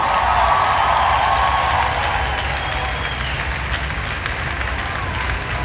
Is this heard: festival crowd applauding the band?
yes